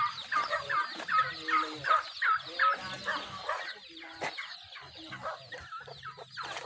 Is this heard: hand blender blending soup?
no